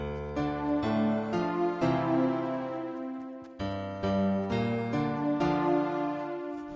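Two layered melody lines built from Fortnite music blocks playing together, a song intro in synth-like tones with a bass part underneath, steady stepping notes and a brief gap midway, no voice.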